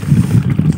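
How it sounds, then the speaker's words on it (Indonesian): Steady low rumble of a boat engine mixed with gusting wind at a floating fish pond for tilapia and carp, loud and continuous with no clear breaks. "Berisik ya sini suara angin dan suara perahu bergas."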